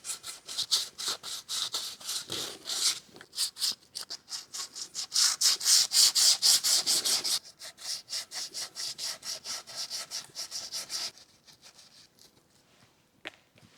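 Repeated rapid back-and-forth scraping of sandpaper on a primed 3D-printed Helm of Domination helmet, close and steady in bursts, with a louder, busier stretch midway and strokes thinning out toward the end; no talking.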